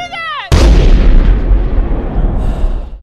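A single loud gunshot blast from a film scene, a girl being shot by a boss, bursts out suddenly after a short tonal passage and leaves a long, rumbling booming tail.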